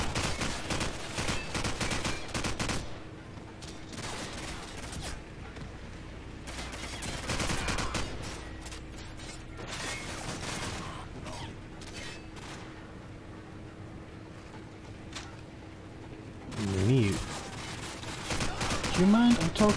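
AK assault rifle fire in the video game Call of Duty Modern Warfare Remastered, with dense bursts of rapid shots coming in several clusters over continuous game noise, fading between volleys.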